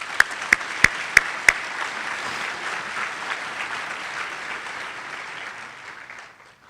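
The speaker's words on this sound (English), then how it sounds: "Let's give these folks a quick round of applause." Luncheon audience applauding, a roomful of clapping with five sharp, close claps standing out at the start before the patter thins and fades.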